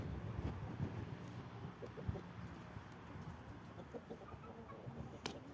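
Silver Plymouth Cross hens from Europe, an egg-laying breed kept with a rooster, cluck softly in short, scattered bursts against a quiet background.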